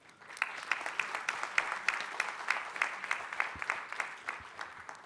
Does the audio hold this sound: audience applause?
yes